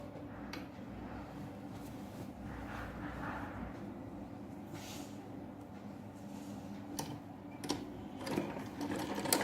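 Sewing machine stitching the corner of a ladies' straight pant, a continuous soft mechanical whir with faint rhythmic ticking and a few sharper clicks, fairly quiet and alone.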